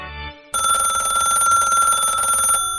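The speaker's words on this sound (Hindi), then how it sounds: "टेलीफोन की घंटी बजी।" A telephone bell rings loudly and continuously for about two seconds after a brief quiet moment, its bright metallic tone ringing steadily before cutting off.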